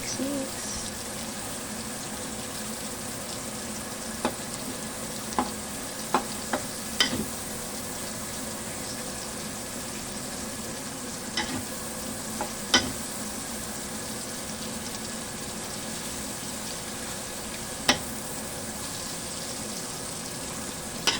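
Onions for pancit canton sautéing in a pan, a steady soft sizzle running throughout with occasional sharp clicks of stirring, no talking.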